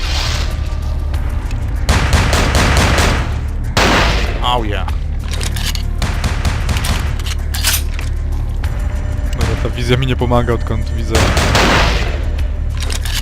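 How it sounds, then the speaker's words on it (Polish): Rapid bursts of gunfire in the video game Vampire: The Masquerade – Bloodlines crackle repeatedly over a continuous background, with someone talking over the shooting. "Odgłosy strzałów to sygnalizują."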